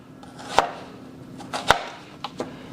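A knife slices fresh jalapeños on a cutting board, with four crisp chops close by, two louder strokes and two lighter ones spaced unevenly, and no talking.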